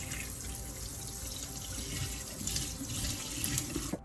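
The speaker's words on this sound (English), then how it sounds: "maybe a little bit of flowing water will help." Tap water runs steadily into a sink while a fish is scaled, a continuous moderate hiss with a few brief clinks and splashes near the end.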